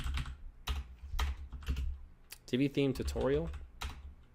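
A computer keyboard is typed on in a short burst of soft, irregular clicks, heard under and between a man's speech.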